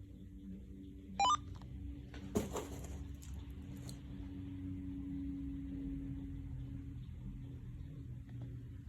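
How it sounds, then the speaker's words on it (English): Power-on tones from a Uniden BCD436HP handheld police scanner: a brief cluster of electronic beeps early on, then a sharper click-like blip, followed by a steady low hum as the unit loads. "when you turn it on, you press it and you'll hear some tones"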